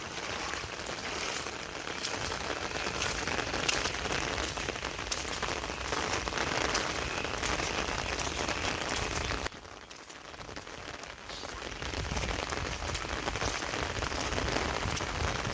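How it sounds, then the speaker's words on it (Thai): Heavy rain pours down steadily, a dense, even hiss of drops beating on surfaces that dips briefly partway through and then returns at full strength. "ฝนก็เลยตก"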